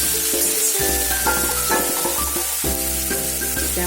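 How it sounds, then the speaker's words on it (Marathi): Ginger, garlic and green chili paste sizzles loudly in hot oil with cumin seeds for palak paneer, a dense, close crackle with stirring scrapes throughout. "आता आपण आलं लसूण आणि हिरवी मिरचीची पेस्ट टाकू"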